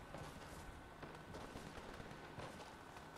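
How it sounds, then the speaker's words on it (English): Gunshots in a video game pop faintly in the distance as scattered, irregular cracks and short bursts over a steady ambient bed, with no voices. "Oh, there's gunshots going up in that direction"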